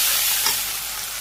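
Cumin, chopped onion and garlic, ginger and onion pastes fry in hot oil in a Bangladeshi village kitchen, giving a brief, steady close-up sizzle with no voices.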